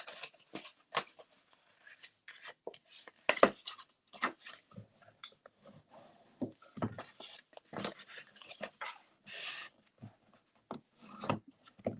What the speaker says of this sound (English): first we're going to burnish on all of these score lines